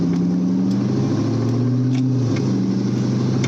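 Corvette with a modified exhaust and spacer mod accelerating on a drive, a loud, steady low engine drone with a pitch shift partway through, heard from inside the car.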